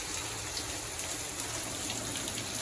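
Steady, dense rain pours down without pause, a constant broadband hiss at even loudness throughout, with no voices.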